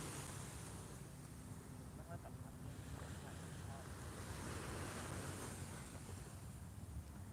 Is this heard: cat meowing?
no